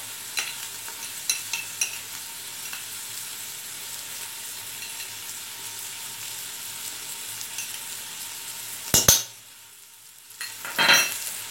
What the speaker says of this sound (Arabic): غادي نخلط مزيان باش هاد التوابل هذه كلها تمشي ليا في اللحم وتمشي ليا مع البصل